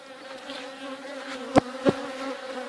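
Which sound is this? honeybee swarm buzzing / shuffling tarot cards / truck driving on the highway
honeybee swarm buzzing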